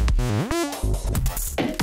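ULTRALOOP sampler plugin playing back while moving between sample slots, with a dense, shifting collage of choppy, glitchy fragments and pitch-sliding tonal bits, loud and continuous throughout.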